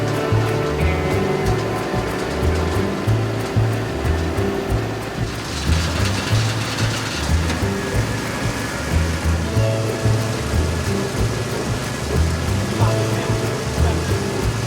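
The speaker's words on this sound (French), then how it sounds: "Nettoyage mécanique de l'intérieur de la conduite grâce à une tête rotative pour enlever les dépôts calcites et la corrosion" A rotating cleaning head scours limescale and corrosion from inside a drinking-water pipe while hydraulic rinsing flushes the debris, giving a loud, continuous rushing of water over a low mechanical rumble that steps up in intensity partway through.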